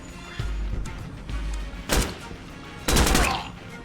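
Frag grenade detonations in the tactical shooter game Door Kickers 2: two loud, heavy booming blasts about a second apart, each a sharp broadband burst that quickly fades.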